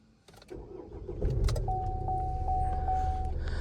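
A 2014 Vauxhall Mokka 1.7 CDTI diesel engine cranks and catches, then settles into a steady idle with a rattly diesel character, alongside a faint jangle of keys and a soft dashboard chime.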